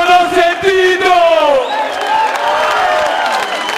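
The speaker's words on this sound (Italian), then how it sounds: "Fatemi un applauso, va!" A live concert crowd at Quarti di Pontestura cheers, whoops and claps, a sustained roar of many voices with shouts that rise and fall steadily.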